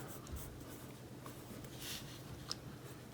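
A pen moving over a comic book page, a soft continuous scratch with brief strokes and one small tap, quiet and close with no talking.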